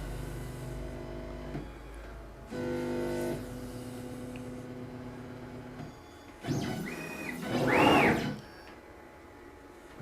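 Onefinity CNC machine moving its gantry toward the back to probe the Y coordinate: steady stepper-motor whine and hum in several tonal segments, with changing pitch and a louder rising sweep near the end.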